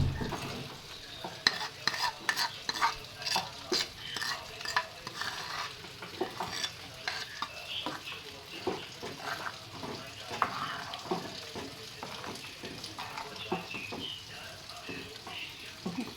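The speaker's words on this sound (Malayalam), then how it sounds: "ചട്ടി വെച്ച് നമുക്കിതിലേക്ക് അരച്ചെടുത്തിരിക്കുന്ന അരപ്പ് ഒഴിച്ചു കൊടുക്കാം." Ground spice paste is poured into a hot clay pot on a stove for a rustic lentil and tomato curry, giving a steady close sizzle with scraping stirs and light clinks of utensils.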